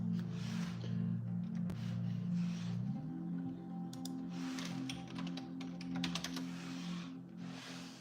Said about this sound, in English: I'll just have to type this in.